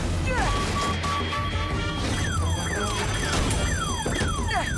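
A wailing car alarm with repeated falling sweeps blares loudly over a busy background of crashing and banging, with voices shouting in the middle of the commotion.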